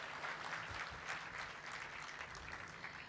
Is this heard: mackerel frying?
no